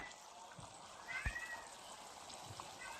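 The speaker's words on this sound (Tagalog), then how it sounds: "Ingay na naman yung pusa ko." A cat meows faintly a couple of times against a quiet background hiss, with a soft trickle of water nearby.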